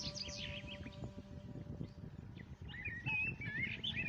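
Small birds chirp and tweet in short, scattered bursts, faint and somewhat distant, with a busier flurry of calls toward the end.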